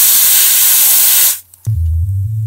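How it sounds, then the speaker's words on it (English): Refrigerant freeze spray hisses loudly from an aerosol can onto a subwoofer amplifier for about a second and a half, then cuts off abruptly, leaving a steady low hum with a faint click. "So I have a can of refrigerant here. I'm going to try it on the amplifier and see if that makes a difference."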